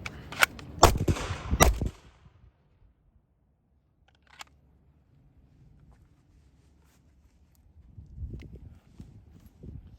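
Three sharp handgun shots crack in quick succession during a beginner shooting drill, loud and close, followed by near silence with a faint later shot and some low rustling.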